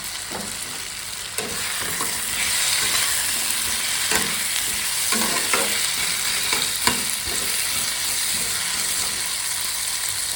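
Chopped potatoes fry in a pan for ghugni, a close, continuous sizzle broken by repeated scraping and stirring strokes of a spoon against the pan.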